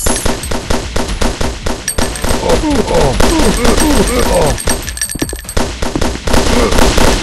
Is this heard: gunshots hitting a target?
yes